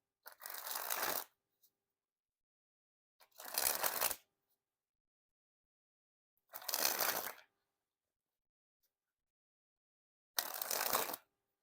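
Snackers Blueberry Edition playing cards, a United States Printing Company deck, sprung from hand to hand in four separate bursts of rapid fluttering card riffles, close and crisp, with silence between each spring.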